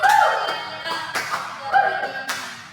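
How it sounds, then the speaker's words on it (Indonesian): Classroom applause from students, a burst of hand claps with some chuckling mixed in, fading over a few seconds and then rising again in a second short round. "Tepuk tangan dulu untuk ini"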